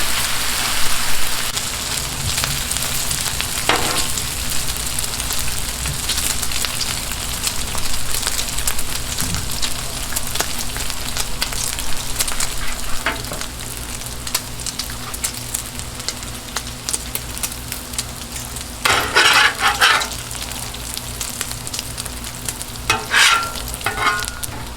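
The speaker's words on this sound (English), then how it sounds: "By the time we're done cooking this bacon" Bacon fries on a Blackstone flat top griddle in a steady, dense crackling sizzle lasting throughout, with occasional louder spatter bursts and no talking.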